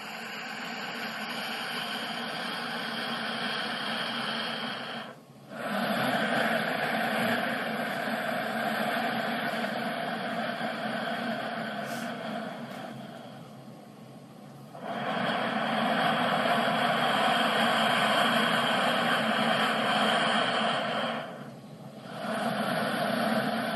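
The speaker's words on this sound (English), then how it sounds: "Breathe in, Ujjayi breathing." Slow Ujjayi meditation breathing makes a soft, ocean-like rushing hiss, heard close and steady in long in-and-out cycles separated by brief pauses.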